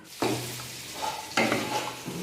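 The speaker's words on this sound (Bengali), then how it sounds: "এখন ম্যারিনেট করা মাংসগুলো দিয়ে দেবো" Marinated mutton pieces dropped into hot oil tempered with whole cumin seeds; two sharp, loud bursts of sizzling, each settling into a crackling fry with stirring scrapes.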